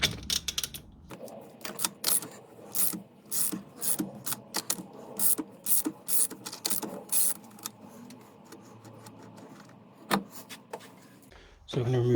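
A ratchet undoes the 32mm bolt on a Ford Mondeo Mk3 ST220 front hub, giving bursts of rapid rasping clicks in uneven strokes, close and fairly loud, with a sharper clank near the end.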